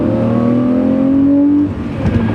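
A 2004 Lamborghini Murcielago accelerates hard in second gear, its engine a loud, close, rising drone that holds steady. Near the end it drops off sharply and a brief rougher burble follows.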